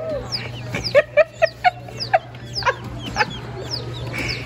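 Several baby chicks cluck and chirp in short bursts over a low steady hum, the clucks irregular and fairly close.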